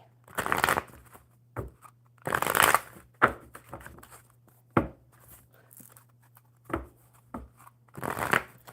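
A deck of playing cards is shuffled several times in separate bursts of riffling and bridging, close and crisp, with short pauses and light handling taps between, over a faint steady hum, during a live coffee-and-cards session.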